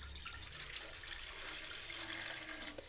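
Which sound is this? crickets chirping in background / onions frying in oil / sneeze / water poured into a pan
water poured into a pan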